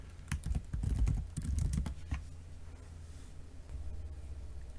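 Fingers type on a computer keyboard in a burst of quick, close clicks lasting about two seconds, then a few sparse taps trail off into quiet room noise; no talking.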